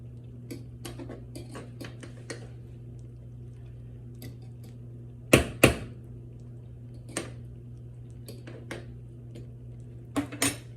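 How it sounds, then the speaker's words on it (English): Shish kebab and rice ingredients are mixed together in a dish, heard as scattered clinks and scrapes of a utensil against the container, with a couple of louder knocks midway, over a low steady hum. "So I'm gonna mix all of this together."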